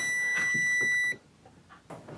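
A sensitive detector emits a steady high electronic beep for about a second near AC wiring, then cuts off, leaving faint shuffling and handling noise.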